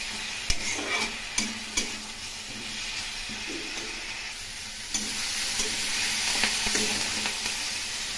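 Potatoes and spices, including coriander powder and a little sugar, sauté in a pan with a steady close sizzle, while a spatula clicks and scrapes irregularly and louder in the first two seconds.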